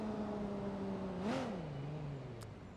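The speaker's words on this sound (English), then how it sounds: "the cars sound like cars" Video game car engine revving steadily with a rising and falling pitch swell in the middle, loud and close, no talking.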